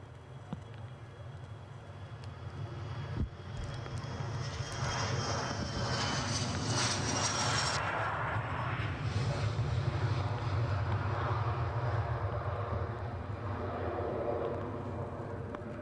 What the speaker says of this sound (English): EasyJet holding short, somebody on finals, and Mark wanting to get a snap of this.